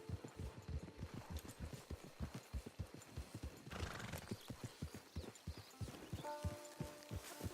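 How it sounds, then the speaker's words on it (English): Horse hooves thudding in a regular walking cadence on a video game trail, fairly close, with a neigh breaking in near the end as the animal slows. "Hit your horse"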